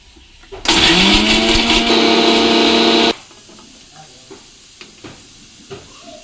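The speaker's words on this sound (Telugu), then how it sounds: "ఇది పొడి కొడతానండి పొడి కొడతాను పచ్చిదే పొడి కొడతాను" A mixer grinder grinding raw coriander seeds dry into powder, bursting into a loud, harsh motor whir for about two and a half seconds before cutting off, with quiet kitchen sounds around it.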